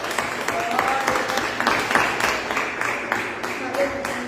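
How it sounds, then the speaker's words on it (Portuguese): A church congregation claps steadily in sustained applause during a service, with voices mixed in and rising above the clapping. "Dê uma aplauso ao Senhor."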